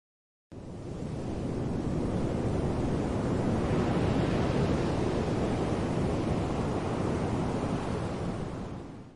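A sea waves sound effect washes in a continuous, full roar that swells gently toward the middle and eases off, with no voices.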